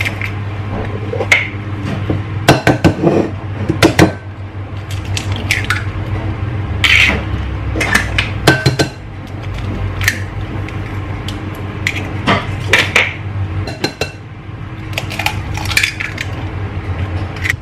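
Eggs cracked into a bowl with sugar, giving a series of sharp close taps and clinks against the bowl, some in quick pairs, with wet drips and handling noise between and no talk.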